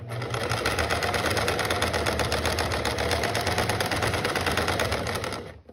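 A sewing machine stitches and backstitches a fabric mask made from a repurposed carved case bag, running as a steady, loud, rapid mechanical whir for about five seconds before stopping.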